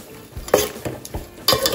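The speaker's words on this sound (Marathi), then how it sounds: "मस्त आपण मिक्स करून घेऊ" A spoon scrapes and clanks against a pot while a prawn biryani mixture is stirred, in several distinct strokes roughly a third of a second apart, close and fairly loud, with a faint sizzle beneath.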